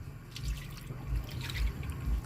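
Coconut milk is poured into a pan to make oil, a soft liquid trickle with gentle low splashing pulses, close and quiet.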